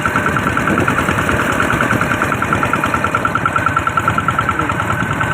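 A Kubota RT100 engine runs loud and close with a steady idle and an even, rapid knocking pulse, holding unchanged with no voices over it.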